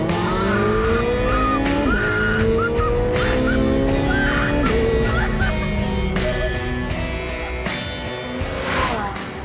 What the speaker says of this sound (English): a high-octane supercar ride out in the desert